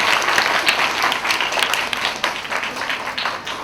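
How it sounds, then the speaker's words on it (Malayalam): Guests at a wedding ceremony clap warmly as the bride's parents are welcomed onto the stage, a full, steady burst of applause from the crowd. "രണ്ടുപേർക്കും നല്ലൊരു കയ്യടി കൊടുക്കാവൂ"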